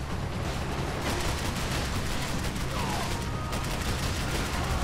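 Dense, continuous gunfire in the shooter game Max Payne 3 during a firefight on a boat, rapid overlapping shots filling the whole stretch at a steady, loud level with no pauses.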